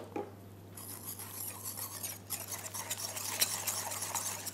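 A utensil stirs flour and water in a bowl into a smooth, lump-free batter for a mushroom parmentier, making a continuous soft scraping and swishing that grows slightly louder, close up and without talk.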